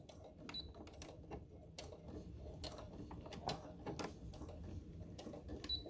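A sewing machine runs a back stitch on fabric for a little dress, giving quiet rapid mechanical ticking and clicking in short bursts, faint and close.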